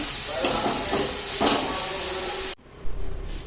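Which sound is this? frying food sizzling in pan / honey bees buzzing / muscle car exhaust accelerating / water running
frying food sizzling in pan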